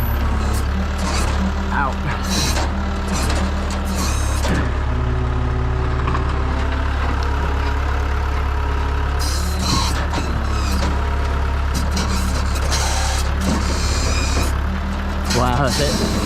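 A Hino rollback flatbed tow truck works its wheel lift while towing a fire-damaged 2023 F150 stuck in park, with a loud steady engine drone, hydraulic whines and air hisses, and a person talking over it.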